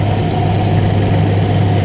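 A Nissan 240SX's KA24DE engine, freshly repaired after a head gasket job, idles steadily with a low, even rumble and constant hum, close by and unbroken, with no voices.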